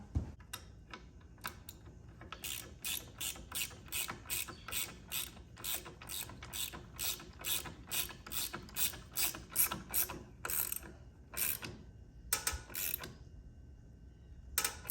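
Ratchet wrench tightening a bolt on a Kuryakyn floorboard relocation extension bracket of a 2016 Harley-Davidson, a long run of quick, close, regular clicks with brief pauses near the end.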